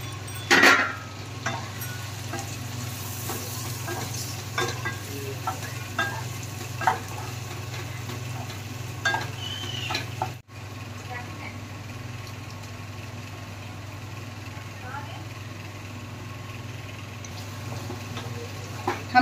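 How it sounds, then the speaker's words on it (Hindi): Onions fry in a pan with a steady, close sizzle beneath scattered clinks and stirring scrapes over an underlying hum, with no talking. "हम प्याज को 2 से 3 मिनट भूनेंगे, हल्का ब्राउन करेंगे"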